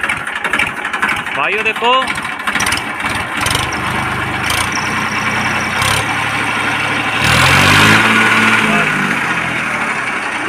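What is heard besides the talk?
Massey Ferguson 1035 tractor engine running and revving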